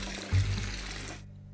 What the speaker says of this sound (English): It's good to water your plants.